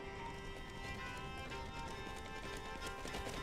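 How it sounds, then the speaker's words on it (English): Horses gallop in the Empire Total War: Warpath video game, a steady dense drumming of many hooves mixed into a continuous broad battlefield wash that holds at an even level throughout. "Wait, it's just the horses and one guy."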